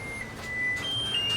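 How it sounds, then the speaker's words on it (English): A kitchen oven timer beeps in a steady high tone with short pauses while a breakfast casserole bakes at 350 degrees, clear and alone over low room noise. "our timer's going off"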